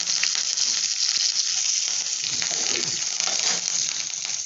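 Curry leaves and chillies sizzle in hot oil in a pan while a broad-bean poriyal is being cooked. The frying hiss is bright, steady and continuous, close by, with no talking over it.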